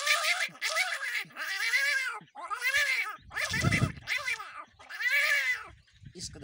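A human voice imitating cats fighting and yowling, with a series of drawn-out, wavering meow-like wails and short breaks between them, close and fairly loud.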